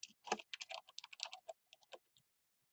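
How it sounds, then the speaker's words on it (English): Quick bursts of keystrokes on a computer keyboard while entering text into a Microsoft Word document, close and clear, a dozen or so taps in an uneven rhythm with a short pause near the end. "We're going to type team schedule"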